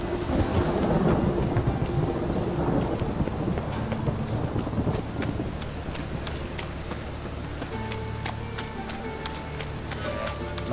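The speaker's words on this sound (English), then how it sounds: "A storm, damn it." Thunderstorm in The Witcher 3, with steady rain hissing throughout and several rolling thunder rumbles, loudest early on, while a faint low background hum and scattered crackles persist without speech.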